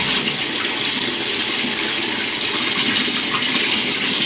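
Water runs from a tap before a shave, a loud, steady close rush and splash into a basin with no talk.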